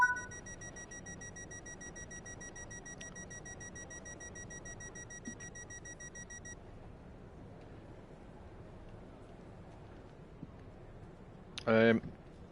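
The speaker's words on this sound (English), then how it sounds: "And then close the doors." Train door-closing warning from Train Sim World 5, a faint steady high tone sounding for about six seconds over a low rumble of the train interior, followed later by a short burst of noise.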